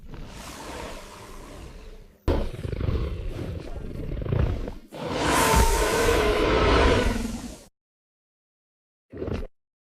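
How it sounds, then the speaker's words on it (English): A dinosaur parent shrieks and roars loudly while charging at a giant snake in a prehistoric jungle, with long harsh bursts and whooshing rushes, then a brief final roar after a silent gap. "The parent returns, letting out a piercing shriek and charging at the intruding giant snake right now."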